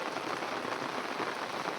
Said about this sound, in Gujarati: વરસાદ પાછો ફૂલે ફૂલ ચાલુ થઈ ગયો છે